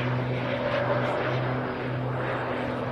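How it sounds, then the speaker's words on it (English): An aircraft roars steadily overhead at the Bournemouth Air Festival, a loud droning engine sound with a strong steady hum and no speech. "I just love listening to the jets, Anderson."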